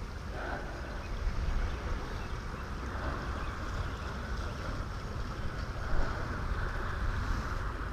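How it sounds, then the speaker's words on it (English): A steady outdoor wash of wind and water noise with a low rumble, like a boat out on open water, fairly faint and continuous. "There's a boat out there."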